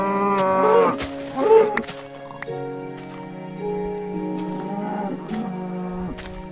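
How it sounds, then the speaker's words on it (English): A Minecraft cow moos several times in a row, drawn-out low bellows with clear tonal layers, close and prominent against a quiet game background. "Oh, there's another cow."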